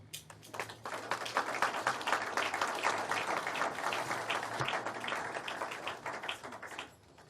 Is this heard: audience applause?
yes